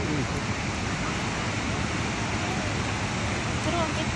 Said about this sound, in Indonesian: Woi, besar lagi ombaknya.